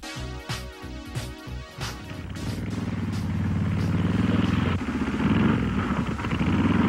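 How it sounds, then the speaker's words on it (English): A Harley-Davidson motorcycle engine revs up and drones at speed in an old 1930s serial film, starting with choppy staccato throttle bursts and then settling into a loud, continuous roar. "the hero, on a Harley, races as fast as he can to warn his friends of an ambush"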